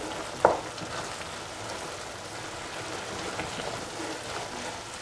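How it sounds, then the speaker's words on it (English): Mushroom stew with coconut milk and ash gourd being stirred in a pan makes a faint, even bubbling hiss, with one brief clink of a utensil near the start and no talk. "keep on stirring for 1 or 2 minutes"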